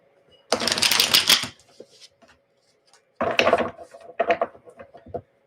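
Tarot cards being shuffled by hand, a long dense riffle of flicking cards followed by a pause and then two shorter bursts of shuffling, close and fairly loud with no talking.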